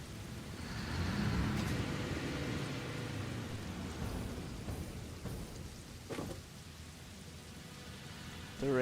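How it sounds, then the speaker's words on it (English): Steady rain hiss from a Satisfactory game world, a broad constant wash with a couple of brief sharper crackles and a faint swell near the end, no talk over it. "The rain is also very nice."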